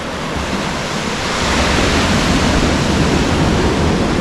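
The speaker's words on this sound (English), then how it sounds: "Pay attention to the waves coming in." Ocean surf surges onto coastal rocks at College Cove in Trinidad, California during a king tide, a loud broadband rush of water that swells and holds steady with wind noise, no voices.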